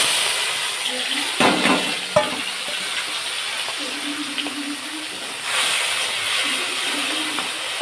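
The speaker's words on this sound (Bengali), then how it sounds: "আর একবারেই চিংড়িটা ঢেলে দেবো" Shrimp frying in a small amount of oil in a wok, a steady hissing sizzle with brief bursts as they go in, and a faint low hum running underneath.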